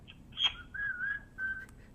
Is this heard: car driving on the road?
no